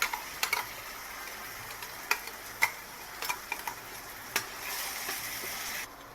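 Ginger, garlic and chilli pastes hit hot oil with fried onions, crackling and sizzling in a pan while a spatula ticks and scrapes against it in sharp, irregular clicks. The sizzle swells briefly near the end.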